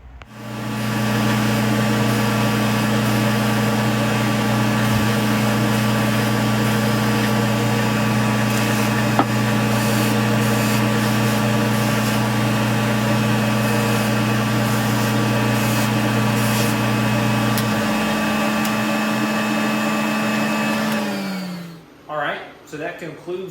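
A buffing wheel polishes the blade of a hand-forged Japanese Kaiken knife, a loud, steady motor whine with a constant tone that runs unbroken for about twenty seconds, then spins down and fades near the end.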